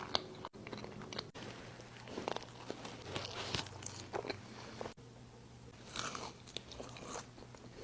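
Crunchy fast food is bitten and chewed close to the mic during a mukbang, giving repeated crisp crunches and wet chewing bursts throughout with brief pauses and no talk.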